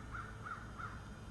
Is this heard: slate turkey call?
yes